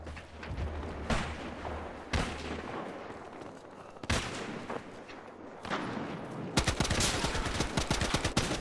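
Gunfire in the video game Battlefield Hardline, repeated loud bursts of automatic shots in several sections, ending in a rapid, dense, sustained volley, with distant battle noise and little talk.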